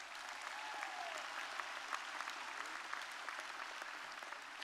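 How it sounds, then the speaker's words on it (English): High school graduation audience applauding parents and families in a large hall, sustained and even clapping from a big crowd heard at a distance. "Students, right now, give them a big round of applause."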